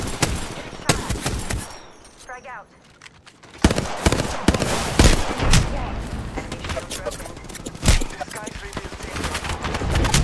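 Gunfire in the Apex Legends battle royale game comes in rapid bursts and sharp cracks, near and loud, with gaps and dense stretches of shots under talk.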